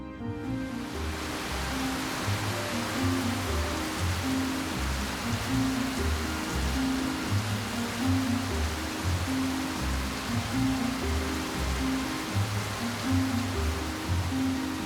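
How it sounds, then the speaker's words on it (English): Huge raindrops pelt down in Odaigahara, a steady, dense wash of heavy rain striking surfaces close by, continuous and unbroken throughout with no voices. "huge raindrops like these come pelting down"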